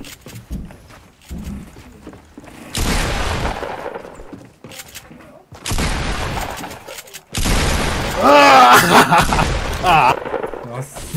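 Gunshots in the video game Fortnite, a few sharp blasts scattered among game noise and bursts of clatter, with people talking over the action.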